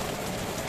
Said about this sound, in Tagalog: Narinig niyo umuulan? Ito na. Ulan ngayon